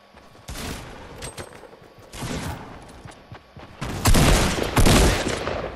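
Video game shotgun fire comes in loud, close bursts of blasts, spread over several seconds and heaviest toward the end, with overlapping shots and booms.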